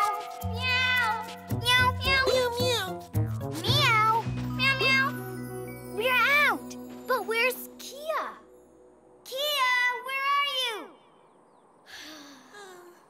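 Voices mimic a cat with a series of rising and falling meows, mixed with brief talking and a gasp, near and fairly loud.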